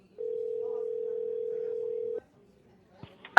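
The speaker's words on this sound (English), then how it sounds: "Callers, prepare to dial." A telephone handset gives a steady dial tone for about two seconds, which then cuts off, followed by a few short clicks and dialing beeps, with no voices.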